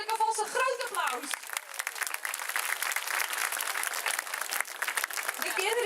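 Audience applauds children after a Lion King musical performance at Beringerzand, steady dense clapping filling the room with a voice briefly heard at the start and again at the end.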